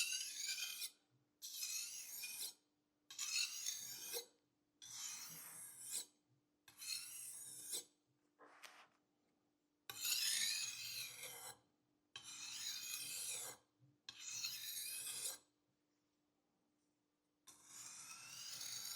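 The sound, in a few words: knife being sharpened on a fine whetstone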